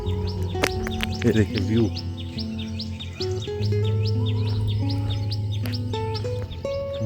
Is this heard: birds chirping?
yes